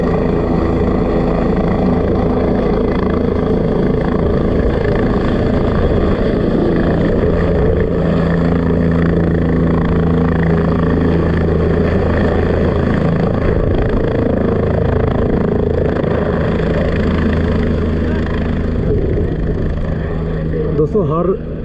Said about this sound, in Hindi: हर 3 मिनट में एक हेलीकॉप्टर मतलब यहाँ जो आपका हेलीपैड है यहाँ उतरता है